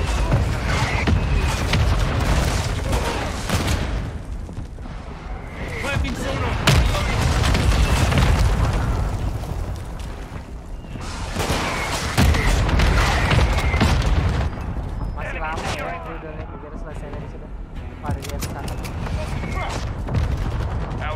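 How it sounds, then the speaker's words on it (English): Mortar strike explosions in a Call of Duty Modern Warfare 2 multiplayer match, loud repeated booms and crackling blasts with gunfire rolling through the whole stretch, dense and continuous. "Hostile mortar strike in the area."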